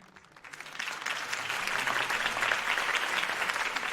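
Crowd applause in the video game Batman: The Telltale Series swells after a quiet start and holds as sustained, dense clapping and cheering.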